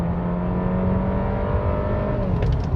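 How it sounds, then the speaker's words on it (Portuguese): A Volkswagen T-Cross Highline 250 TSI accelerates in Eco mode, its engine note steady and loud, rising gently in pitch as the car pulls ahead, with no talking. "E por que não uma última acelerada, né?"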